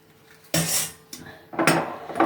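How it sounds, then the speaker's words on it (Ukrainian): A knife chops through Chinese cabbage on a cutting board, three sharp crisp cuts spaced unevenly, close and fairly loud, with no voices. "перше, що я зроблю, буду різати пекінську капусту"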